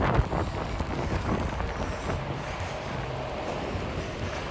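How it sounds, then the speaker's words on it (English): Steady rain and strong gusting wind outdoors in Hamburg, a broad continuous roar with buffeting on the microphone, loud throughout and without any voice. "It's still raining and it's really windy."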